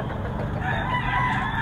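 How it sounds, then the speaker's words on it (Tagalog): Roosters at a Sunday poultry market, a brief stretch of clucking and crowing calls over a dense crowded background murmur. "Pakita natin yung mga manok ni Boss Vic."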